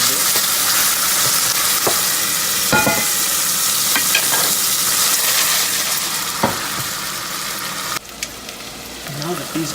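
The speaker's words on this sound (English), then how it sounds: "Get that garlic going. Stir that a bit." Garlic sautéing with black pepper in a pan while being stirred, a loud steady sizzle and hiss broken by scraping utensil knocks against the pan.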